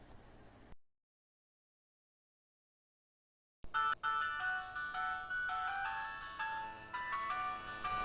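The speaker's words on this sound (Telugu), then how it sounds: "శ్రీకాంత్ ఫోన్ చేస్తున్నాడు" A mobile phone rings with an incoming call, a bright melodic ringtone that starts after a short dead-silent gap and keeps repeating close and clear, with faint talk before the silence.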